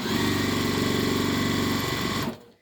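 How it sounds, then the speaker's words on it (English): A sewing machine runs a quick, steady stitching burst along an apron seam, its motor whirring evenly with rapid needle pulses before stopping abruptly. "So we'll sew that real quick"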